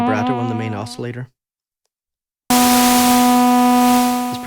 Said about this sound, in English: It's producing white noise.